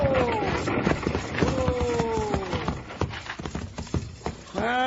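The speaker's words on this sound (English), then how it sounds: "We gotta stop those horses." Galloping horses in an old-time Western radio drama, hoofbeats clattering at a fast rhythm with a whinny, under shouting voices and music.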